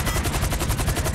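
Rapid automatic gunfire from a shootout in the video game GTA 5, a steady loud burst of evenly spaced shots, with a helicopter in the military base scene.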